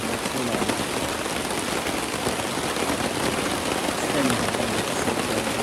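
Steady rain patters on a tent pitched on a hiking trail near Black Rock Hut, a dense, even hiss of drops on fabric that holds close and constant throughout with no talk.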